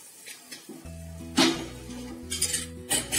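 Batter poured into a hot bell-metal clay-style pan for fluffy otta, preceded by clinking pot and utensil knocks, followed by a sudden sizzle and a few more scraping clanks, close and fairly quiet.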